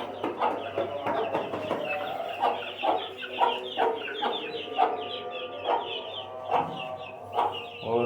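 A hen clucks steadily among her eight chicks, with soft repeated clucks and faint high cheeping continuing throughout at close range, with no talk over it.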